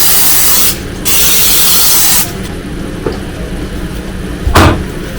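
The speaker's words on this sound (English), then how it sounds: "we need to spray our pans first" Olive oil non-stick spray hissing onto baking pans in a kitchen, two loud sustained bursts of spray close to the microphone, followed by quieter clatter and a brief thump.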